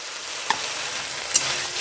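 Masala with cashew paste cooking in a pan for katla fish rezala, a soft continuous sizzle broken by two brief stirring knocks.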